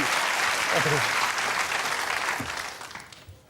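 Applause from a talk show's studio audience rings out strongly, then gradually thins and fades toward the end, with a voice briefly heard over the clapping.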